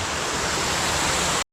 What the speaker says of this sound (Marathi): हे बघा हा वॉटरफॉल इथे एक नंबर.